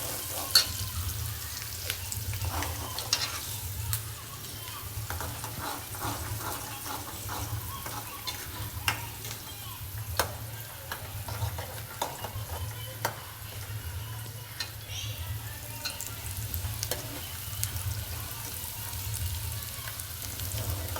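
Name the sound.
onions frying and being stirred in a pan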